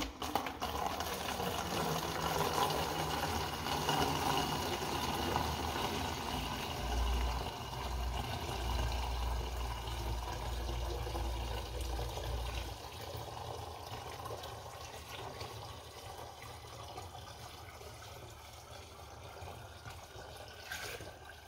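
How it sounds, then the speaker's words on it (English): Water poured out of a Nissan 350Z intake manifold into a 4-liter jug, a steady splashing, gurgling pour that runs continuously at close range, with a strong low rumble through the first half. "let's see how much we can fill it up with the water that we filled up inside the manifold"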